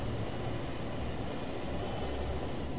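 An airplane flies in the Just Cause 2 multiplayer game, a constant loud engine drone with a thin high whine, steady and unbroken with no speech.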